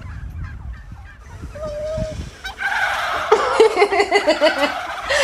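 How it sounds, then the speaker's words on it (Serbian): After a few quiet seconds, a loud chorus of turkeys breaks into rapid, rattling gobbles that continue in bursts, nearby and overlapping. "to su čurke, jel da?"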